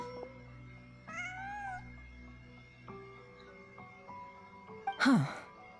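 A cat meows in the video game Genshin Impact: one drawn-out, wavering meow, then a sharper, higher cry near the end, both clear over a quiet ambient game background.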